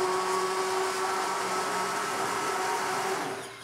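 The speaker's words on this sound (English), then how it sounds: "I like to use these immersion blenders" An immersion blender purees cauliflower curry soup straight in the bottom of a pan, giving a steady high motor whine with a churning, whooshing wash that runs unbroken and fades slightly at the end, with no talking.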